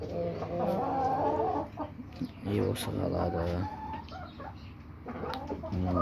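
Hens cluck and cackle nearby in short, repeated bursts, with a person speaking briefly over the birds.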